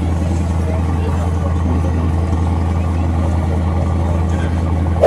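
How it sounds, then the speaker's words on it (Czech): Mercedes-AMG SL63 engine running at a car show, a steady deep idle with a pulsing low rumble, close and continuous amid faint background crowd noise. "SL63, které bylo dokonce nastartované."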